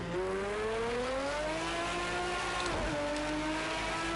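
An Aston Martin race car in a Le Mans racing game drives at speed, its engine droning steadily and loudly, the pitch climbing through a gear, then a brief dip and shift before holding high again.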